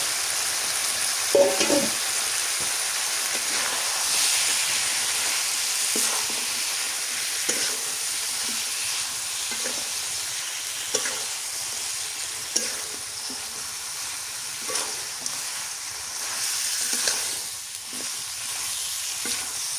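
Snakehead fish curry with vegetables and kohlrabi being sautéed in a pan in a village kitchen, a long steady sizzle broken by regular scraping strokes of stirring every second or two, no voices.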